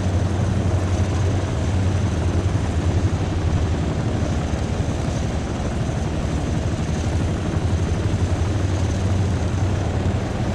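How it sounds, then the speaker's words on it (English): A helicopter in Arma 3 drones steadily and loudly throughout, its rotor throb and engine hum forming a constant, unbroken roar with no voices. "this chopper right here is going to be the one that takes me where I need to go"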